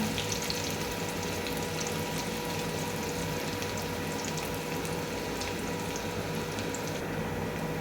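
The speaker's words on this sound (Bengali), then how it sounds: "এখন পেঁয়াজ তেলে দেব একটু বেশি করে দিব" Onions frying in plenty of oil in a pan for a Bengali egg curry, a steady close sizzle and crackle that holds throughout with no talking.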